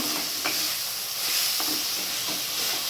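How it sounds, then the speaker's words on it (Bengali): A chicken mixture with garam masala fries in a pan, giving a soft continuous sizzle and hiss broken by light stirring scrapes, fairly quiet and close. "গরম মশলা দিয়ে এটাকে ভালো করে ফ্রাই করে নেব"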